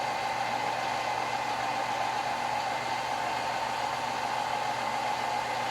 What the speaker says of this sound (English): as it starts mixing, you'll have to turn it up a little bit because it'll start bogging the machine down